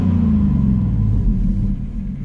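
A Chevrolet Trailblazer SS truck with a failing fuel pump idles in a steady, deep, close rumble that stays even throughout and eases slightly near the end.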